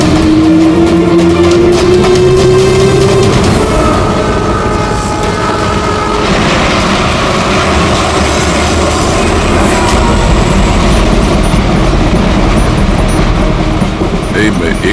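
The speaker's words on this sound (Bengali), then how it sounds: "চলো, ট্রেন ছেড়ে দিল, তাড়াতাড়ি" A train pulls away from a station platform, its loud rumble and rising horn-like tone filling the scene while people talk and call out over it.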